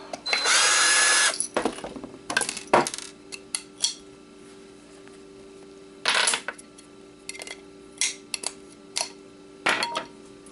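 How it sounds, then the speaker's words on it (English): Short bursts of a power driver unscrew the last magnet from an Xbox hard drive, starting with one long whir and followed by quick buzzes and light metallic clicks of parts and screws. "Unscrew the last magnet."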